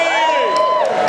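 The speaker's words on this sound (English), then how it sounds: "Let's hear a cheer." An audience at a reunion panel event cheers in a loud burst of overlapping whoops and shouted voices, close and brief.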